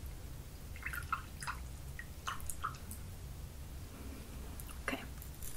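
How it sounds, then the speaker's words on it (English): Water dripping and trickling softly during a men's razor shave appointment, scattered faint drips and small splashes at irregular intervals, close and quiet over a low hiss. "let me get a little bit more water"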